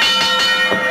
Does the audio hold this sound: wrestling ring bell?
yes